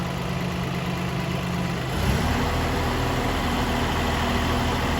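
Steady idling of a Mitsubishi three-cylinder diesel engine on a Bomag BW121AC road roller, a 3.5-ton steel-front, rubber-rear-wheel machine. The running note steps lower at about two seconds and stays constant and close, with no talk.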